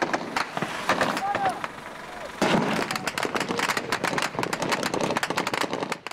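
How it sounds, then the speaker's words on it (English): Incoming gunfire rounds in combat against the Taliban crack as they break the sound barrier: dense, irregular bursts like firecrackers, loud and chaotic, with a sharp surge partway through and a continuous noisy background. "The incoming round sounded like Chinese firecrackers as they broke the sound barrier"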